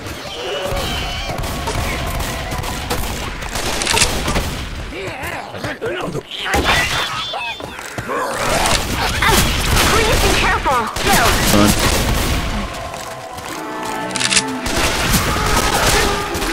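Shotgun blasts and other gunfire from the video game Left 4 Dead 2, in a dense, continuous barrage of bangs and thuds with overlapping game voices throughout.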